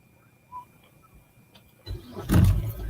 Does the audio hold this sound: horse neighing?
no